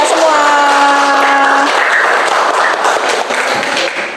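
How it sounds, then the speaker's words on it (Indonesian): A classroom group applauding together during a maths lesson, loud, continuous clapping with a tonal chime or voice-like tone briefly layered over the start before the clapping carries on alone. "Tepuk tangan untuk kita semua."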